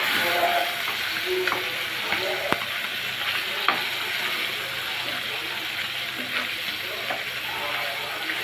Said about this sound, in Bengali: সবগুলো মাছ আমি উল্টে পাল্টে ভেজে নিচ্ছি